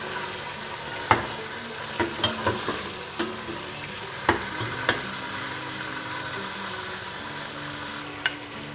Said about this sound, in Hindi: ये मैं ना अदरक पेस्ट जो है ना वो डाल दी, 1 बड़ा चम्मच